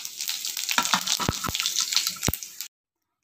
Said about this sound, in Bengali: তেল গরম হয়ে গেছে, তার মধ্যে ফোড়ন হিসাবে ছেড়ে দেবো জিরে, তেজপাতা, গরম মশলা আর শুকনো লঙ্কা।